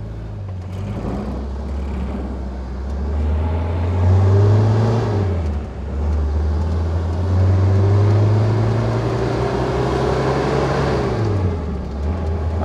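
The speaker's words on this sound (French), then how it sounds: "mais le moteur qui faisait ce petit bruit sympathique au ralenti, eh bien, il est tout de suite très présent" Amphicar amphibious car with a small Triumph 1150 engine pulling away from rest, close and loud, revving up through the gears with rising whine, dips at shifts, then climbing again.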